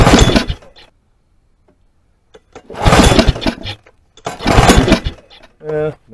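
A repaired Snapper lawn mower engine sputters and roars roughly in three loud, close bursts separated by quiet pauses, with a short voiced sound at the very end.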